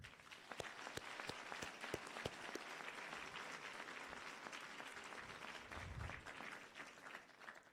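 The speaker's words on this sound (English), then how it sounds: "Could we please give them a round of applause?" Audience applause at a 2017 high school graduation, a broad continuous wash of many hands clapping from a large crowd, distant-sounding and sustained without speech.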